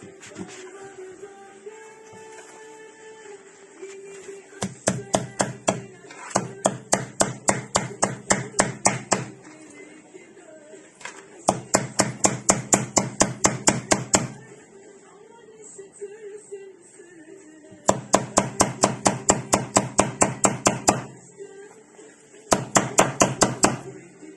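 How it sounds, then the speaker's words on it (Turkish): Rapid bursts of hammer blows drive nails against an unbreakable glass screen protector on a phone, five or six clusters of sharp, evenly spaced taps, close and loud, with quiet pauses between runs. "Şimdi daha zor bir test işlemine geçeceğiz. Çivi çakacağız."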